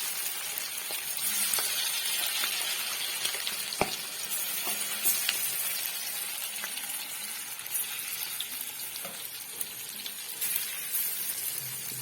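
Chicken fries in a pan in a home kitchen, a steady loud sizzle with stirring scrapes and occasional clinks, continuous and close, with no talking.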